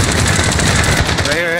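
Rapid automatic gunfire in the Warzone battle royale game, a dense, loud stream of fast shots close by, with a player's voice talking over the end.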